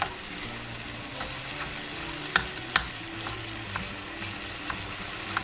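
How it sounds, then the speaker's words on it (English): Ground beef sizzles steadily in a frying pan while a utensil breaks it apart, with occasional sharp scrapes and taps against the pan over the continuous crackle. "So I'm going to start breaking up the meat here"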